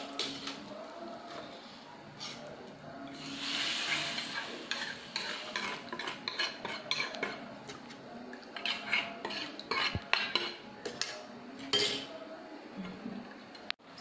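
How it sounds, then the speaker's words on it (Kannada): A hot tempering tipped into sugar-syrup water for Gujarati dhokla crackles briefly, then a spoon stirs and scrapes against a steel vessel in quick clinking strokes, close and moderate, with faint talk at times. "ಈ ಒಗ್ಗರಣೆನ ಈ ನೀರಲ್ಲಿ ಹಾಕಬೇಕು"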